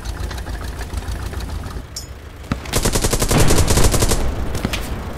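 Heavy automatic gunfire from a first-person shooter video game as a player drop shots an opponent: scattered single reports, then a loud, dense rattling burst of rapid fire that runs for the last two and a half seconds, with no talk over it.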